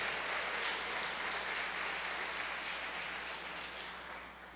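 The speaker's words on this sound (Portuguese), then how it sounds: "Então dê um aplauso ao Senhor" A church congregation applauds, a steady wash of clapping that goes on for several seconds and fades a little toward the end.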